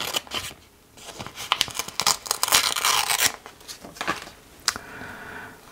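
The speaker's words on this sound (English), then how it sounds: "I'm going to just cut that bit like that" Scissors snipping through paper at a desk, a handful of close, crisp cuts and rustles over a few seconds, with no talking during the cutting.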